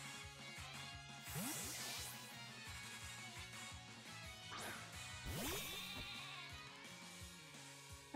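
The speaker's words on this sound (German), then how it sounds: "Ein dickes Schaf." A sheep Pokémon in Pokémon Shield bleats in a couple of rising, wavering synthetic calls over looping game music, with whooshing battle effects and impact hits between them.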